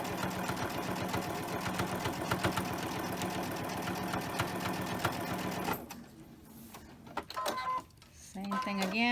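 Sewing machine running steadily while stitching fabric hand warmers, a dense rapid mechanical whir for about six seconds, then stopping as a voice speaks.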